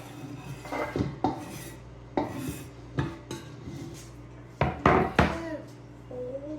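Garlic going into olive oil in a pan while soup is started, heard as a series of sharp clanks and scrapes from a pot and utensils with a light sizzle beneath, moderately close.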